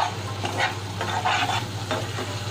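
Vetki fish with turmeric stirred while frying in a pan, soft repeated scraping strokes in an uneven rhythm over a steady low sizzle and a constant background hum.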